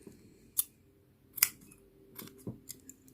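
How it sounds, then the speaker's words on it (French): A few crisp, separate snips of scissors cutting brown yarn while making a crocheted reindeer, soft and close, with quiet pauses between cuts. "Et je vais couper le fil marron."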